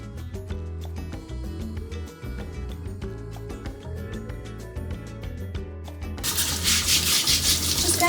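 Fresh carrots are scrubbed clean by hand in quick rhythmic rubbing strokes, set over background music, with the scrubbing growing louder and harsher toward the end.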